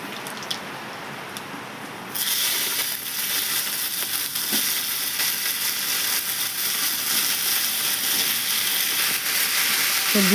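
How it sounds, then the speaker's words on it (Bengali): Chopped vegetables tipped into hot oil tempered with bay leaf, whole dried red chillies and panch phoron, bursting into a loud, close, continuous sizzle after a quieter opening, with scraping and crackling throughout and no talk. "এরপর আমি কাটা সবজিগুলো দিয়ে দেবো।"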